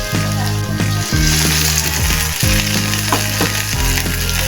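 Tomatoes sautéing in a pan for a fish dish, a loud, close, steady sizzle over a strong low mechanical hum that stops and restarts several times.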